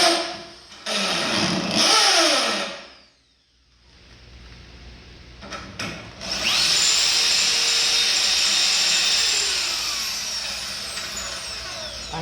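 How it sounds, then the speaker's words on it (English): A power drill set to hammer mode bores holes in a steel truck frame, an S10 chassis being fitted with cab mounts. Two short, loud, close bursts are followed by a pause, then a long, steady, grinding run to the end. "I had this drill on a hammer"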